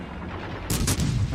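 A heavy burst of naval gunfire from World of Warships booms out over a steady rumbling battle background, short and loud with a couple of quick blasts.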